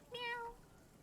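A single faint, drawn-out meow voiced by a person imitating a cat, quiet against a soft background hiss.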